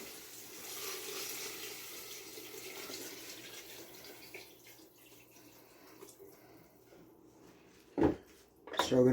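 Roughly 14 cups of water pour into a soup pot as a steady rushing stream that tapers off over several seconds, followed by a couple of sharp clattering knocks near the end.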